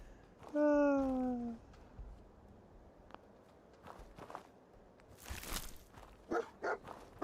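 Dog barking in the Fallout 4 game: a loud whining yelp near the start, then scattered footsteps, soft scuffs, and a few short barks and yips later on, with no talking.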